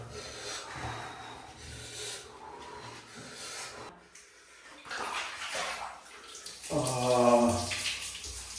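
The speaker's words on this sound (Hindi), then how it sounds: "ठंड में गरम गरम पानी से नहाने का अलग ही मजा है" Hot bath water poured over someone bathing in cold winter weather: splashing, gushing pours and rubbing against the body, close by, with a stronger pour toward the end.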